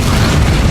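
Expulsor spell exploding in the Hogwarts Legacy video game, a loud, close, sustained rumbling boom that fills the whole moment.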